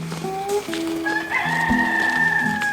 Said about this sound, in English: The crowing of a rooster is a pretty common sound in Mendon, Utah.